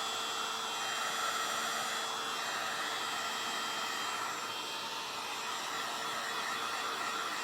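A hair dryer blows steadily and loudly at close range, a continuous broadband whoosh with a faint tonal hum, running unbroken with no talk over it.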